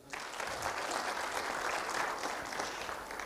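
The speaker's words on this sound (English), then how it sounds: "And then a youthful round of applause." A large audience at a Pan African youth convention at a Kenya school claps in a continuous, even roar of hands, steady throughout and somewhat distant.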